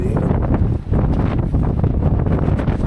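Wind buffets the microphone during a coastal motorbike ride, a loud continuous rumbling roar with gusty surges and one brief lull.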